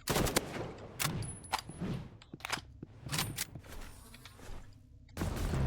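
Several gunshots in a video game, some sharp and close, others softer and more distant, fired in quick bursts with short gaps while attempting a long-range headshot, with faint footsteps and whooshes between the shots.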